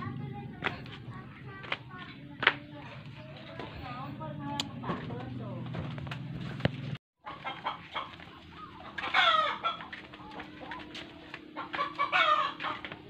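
Chickens clucking and a rooster calling amid farmyard noise, with people talking nearby throughout.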